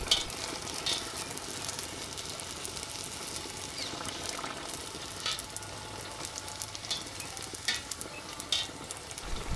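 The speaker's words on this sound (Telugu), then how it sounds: "నూనె బాగా వేడెక్కిన తర్వాతే ఒక్కొక్కటిగా పూరీలు వేసుకుందామండి" Puris frying in hot oil, a steady dense sizzle with crackling bursts throughout, close and fairly quiet, with no talking.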